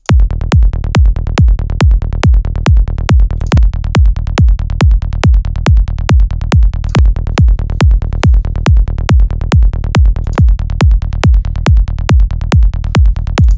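A heavy, distorted psytrance bass line pulses in a steady rapid rhythm, each note saturated through the Kilohearts Convolver's Britishbox setting, punching loud and dense with no voices over it.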